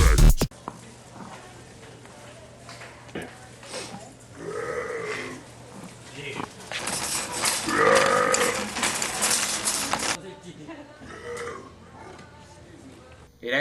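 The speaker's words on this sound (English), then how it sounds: "They didn't even move when I walked by and burped." A person burps several times while walking around a Walmart store, croaky drawn-out belches that come and go over store background noise, with a few other voices in the space.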